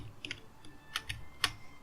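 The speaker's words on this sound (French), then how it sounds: "Parce que c'est un clavier mécanique, fait qu'il fait énormément de bruit." Keys clack on a mechanical keyboard in a handful of sharp, uneven strokes, fairly faint and captured near a microphone with no voices.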